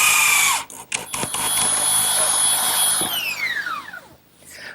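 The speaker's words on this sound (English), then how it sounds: "I think I'll fasten this member with a screw because it'll hold better" Power drill driving a screw into a wooden garden bench member, a loud close high whine starting, briefly cutting out, then running steadily before winding down in a falling pitch, no talking.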